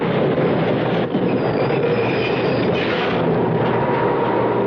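Subway train effect for a 1975 radio mystery drama: a loud, steady rumble of a carriage rolling along the rails with faint wheel squeals and clatter throughout, close and without voices.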